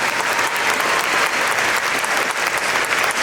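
Steady, dense applause from a concert audience honours third grade flutophone students at an elementary school festival, even and close throughout with no speech.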